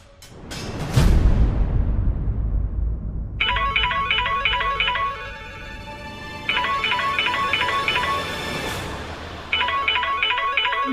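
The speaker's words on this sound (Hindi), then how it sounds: "ध्रुव भैया का फोन है" A phone ringtone plays in a repeating electronic melodic pattern, starting after a swooshing sound effect and cycling three times at moderate volume.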